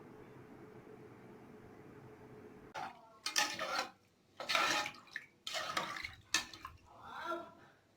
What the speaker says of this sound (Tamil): 2 கப் தண்ணி சேர்த்துக்கலாம்.